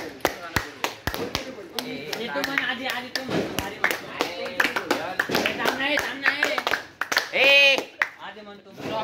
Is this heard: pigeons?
no